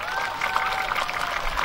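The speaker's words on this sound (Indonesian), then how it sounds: "tepuk tangan juga" Brief audience applause at a National Santri Day ceremony in Cilacap, a soft, continuous patter of many hands mixed with a faint tonal voice or sound-system hum.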